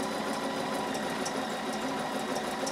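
A home sewing machine runs steadily through free-motion quilting, a continuous whirring hum with a fast, even stitching pulse that holds close and loud for the whole stretch, with no voices over it.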